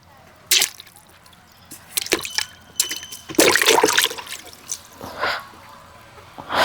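Seven cricket balls plunge into a tub of water one after another, giving several sharp splashes and sloshing bursts spread over a few seconds, close and fairly loud, with a final splash at the end.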